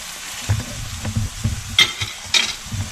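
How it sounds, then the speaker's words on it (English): Fish curry cooking on low heat while being stirred, a gentle bubbling sizzle broken by a few light stirring scrapes, heard close and alone. "that's cooking quite nicely on a fairly low heat"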